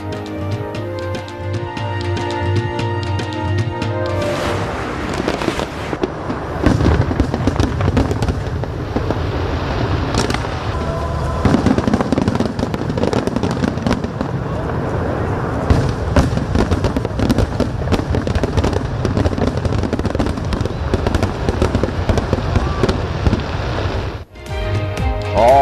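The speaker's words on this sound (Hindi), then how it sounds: "आतिशबाजी का शानदार मुजाहरा किया गया।" Large fireworks display over the Grand Egyptian Museum opening ceremony near the pyramids in Egypt: after a quiet start, dense, loud, continuous bangs and crackling bursts fill the air almost without pause, with no voices.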